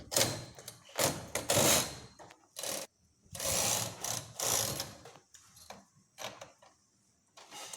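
A hand-operated knitting machine stitches rows for a baby romper, its carriage sliding back and forth in repeated rattling, whirring passes separated by brief pauses, close up and with no talking.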